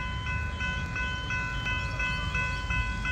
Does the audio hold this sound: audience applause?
no